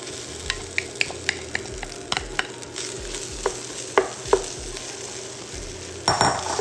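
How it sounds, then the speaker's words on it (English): Cold leftover rice frying in oil for crab fried rice with shrimp, a steady sizzle broken by a series of sharp utensil clicks and scrapes against the pan, ending in a louder burst of frying. "I'm gonna add some more oil. And then I'm gonna add my rice."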